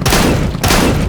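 Two bursts of rapid gunfire from a weapon in the video game CS:GO, loud and close, each a dense crackling volley separated by a brief gap, with no talk.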